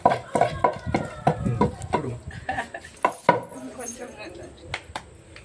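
Food pounded by hand, likely in a mortar, in a home kitchen: a series of sharp, uneven thuds, near and loud at first, then slower and fainter, with a voice speaking faintly between strikes.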